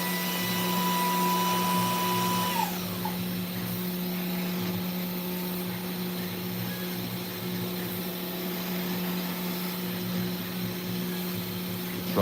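TwoTrees 450 Ultra CNC router carving gypsum with a 0.5 mm tapered ball nose bit: a continuous whining spindle hum with steady motor drone, a faint tone dropping away early, constant and moderately loud throughout.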